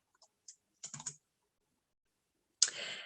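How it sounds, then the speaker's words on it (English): Computer keyboard typing while writing a quiz question, a few scattered soft key clicks followed by a denser burst of keystrokes, close and quiet with no talk. "I'm going to get started by typing out my question to my students."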